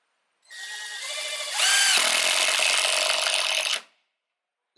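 A Harbor Freight 6 amp reciprocating saw starts up and cuts through wood, its motor buzzing loudly and steadily for about three seconds before shutting off abruptly, with no talk.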